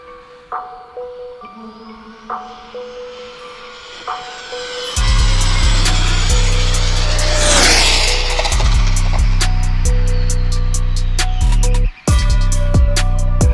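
An Arrma Limitless V2 GT Lambo RC car accelerating hard, its electric motor rising into a loud, steady high-pitched whine with a brief dropout near the end, after quieter handling noises at the start.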